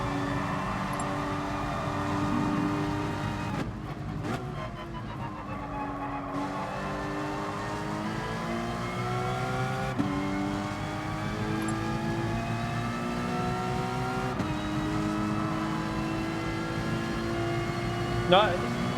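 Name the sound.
race car engines in video game Gran Turismo Sport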